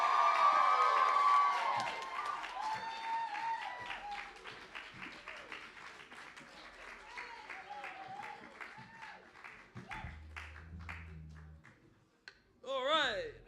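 Audience at a live gig at The Bedford breaking into loud applause and cheering for the band, a dense clapping roar that slowly thins out over several seconds, followed by a few thumps and a short electronic squeal.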